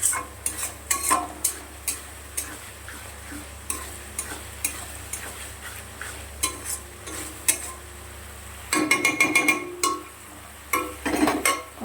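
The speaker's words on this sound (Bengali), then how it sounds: "মশলাটা আরও ভালো করে কষাবো" Spice paste for a potato curry with green peas, with water just added, gets scraped and stirred in a pan in irregular clattering bursts over a faint low sizzle, close and fairly quiet, with no talking.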